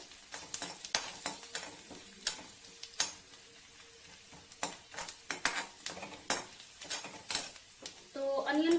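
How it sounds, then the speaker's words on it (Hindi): Whole garam masala and black cardamom fry in oil with already-fried onion, a soft close sizzle broken by irregular stirring clicks and scrapes, swelling into a louder hiss at the end. "और इन सबको मैं अच्छे से फ्राई कर लूंगी पहले"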